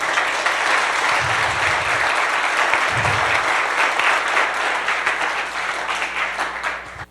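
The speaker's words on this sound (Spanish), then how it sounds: "si le va a aplaudir, apláudale fuerte" Loud, sustained applause from a church congregation, a dense wash of many hands clapping steadily for several seconds before tapering off near the end, with a low rumble underneath.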